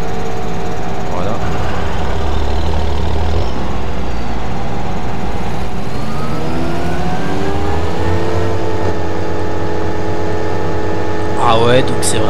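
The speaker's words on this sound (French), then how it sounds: "Le bruitage moteur est vraiment génial." The Titanium DLC machine in a video game produces a loud, steady engine drone with a rising pitch as it revs up, a sustained mechanical hum throughout, and faint talk over it.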